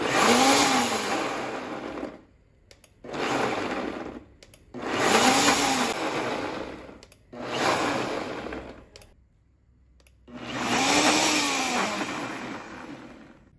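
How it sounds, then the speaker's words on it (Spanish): A kitchen blender grinds cooled oil with salt and black pepper for salsa macha, roaring loudly in five long bursts separated by brief stops, with no voices. "y después los colocamos en la licuadora"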